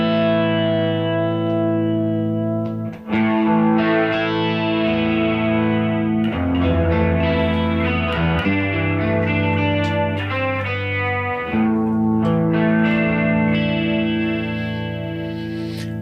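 Electric guitar played through an effects unit in a wet/dry setup, sustained chords and notes with chorus, echo and distortion, loud and continuous, with no talk.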